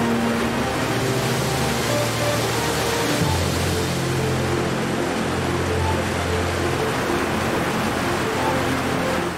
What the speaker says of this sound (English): The water thunders across a length of 800 meters and over 17 barriers